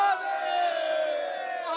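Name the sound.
crowd chanting Har Har Mahadev slogan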